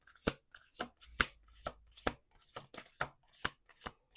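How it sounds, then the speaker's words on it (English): Tarot cards shuffled by hand in a close series of crisp riffles and slaps, about a dozen sharp bursts in an uneven rhythm with no voices. "Last shuffle."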